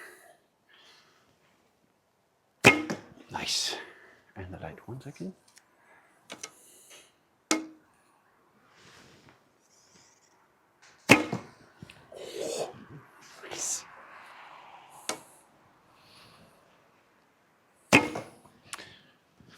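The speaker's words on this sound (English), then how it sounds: "and you hear it, of course, when you shoot." Arrows loosed from a Minghe Calling Crane Assyrian bow by Gaga Archery, 35-pound draw, firing heavy and light arrows: sharp, loud snaps of release spaced several seconds apart, with someone talking between shots.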